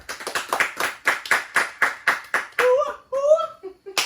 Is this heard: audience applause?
yes